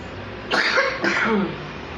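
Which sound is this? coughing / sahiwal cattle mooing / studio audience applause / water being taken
coughing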